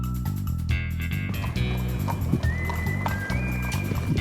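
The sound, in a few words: horses walking, hooves clip-clopping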